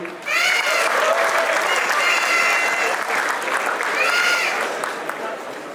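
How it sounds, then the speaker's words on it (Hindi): A college roast-show audience at IIT Kanpur breaks into loud, sustained applause that swells quickly and holds steady, with whoops and crowd noise mixed in. "ताली बजा दो यार।"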